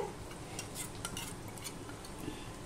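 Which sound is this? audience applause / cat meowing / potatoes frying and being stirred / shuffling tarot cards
potatoes frying and being stirred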